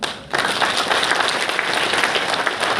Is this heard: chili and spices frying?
no